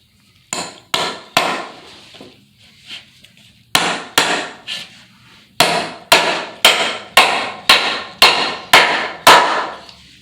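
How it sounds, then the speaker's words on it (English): Sharp hammer blows on a nail ring out during a spa remodel, a few scattered strikes followed by a brisk, steady run of about a dozen close, loud hits. "I can hammer nails"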